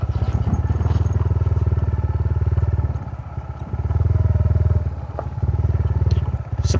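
A motorcycle engine drones loudly and steadily at close range while riding along a dry riverbed toward a waterfall, its rumble dipping briefly midway, with faint clatter from the rough ground.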